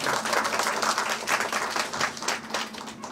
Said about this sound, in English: Yeah, let's give a big clap to Venu